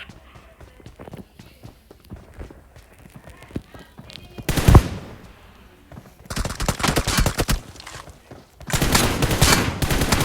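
Bursts of M4 rifle fire in a video game, loud rapid volleys around the middle and near the end, with footsteps and quieter game noise between them.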